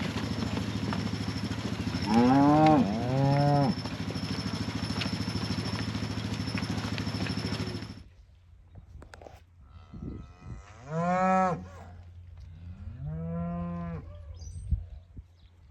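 Cows on a farm moo loudly, one long call early over a steady engine hum, then two more drawn-out moos nearby after the engine stops, with faint clatter around them.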